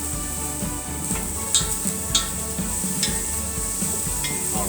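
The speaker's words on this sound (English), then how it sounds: "So I'm just going to saute this around for like just a minute or so, or until it kind of starts getting brown." Ingredients for a roasted turkey breast soup sizzle steadily in a Salad Master pan while a utensil stirs and scrapes them, with several sharp metallic clicks and taps against the pan over the frying.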